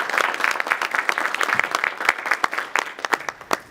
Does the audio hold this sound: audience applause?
yes